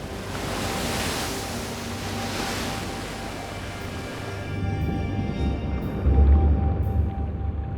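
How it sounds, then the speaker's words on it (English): Huge waves crash and surge against the rocky Orkney coast, where strong tidal currents run, a continuous roaring wash of surf with wind, swelling louder and heavier toward the end. "Huge waves and searing tides have been tearing at the rocky coast since time immemorial."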